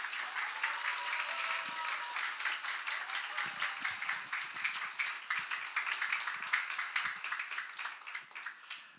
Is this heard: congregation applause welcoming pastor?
yes